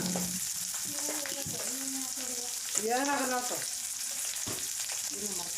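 Ingredients for obbattu holige sambar fry steadily in a pan, a continuous close sizzle with occasional scraping from stirring; a few short voiced sounds rise briefly over the frying.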